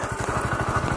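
A 2017 Kawasaki Z125 with a 125cc engine idles close by, a steady low, rapid putter with even pulsing throughout and no talk over it.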